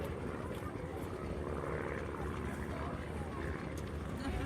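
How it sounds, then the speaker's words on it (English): Light aircraft taking off at a Wisconsin airfield produce a steady, rough engine and propeller drone at moderate distance, continuous throughout with outdoor wind noise. "I'm going to get some shots of some of the planes taking off"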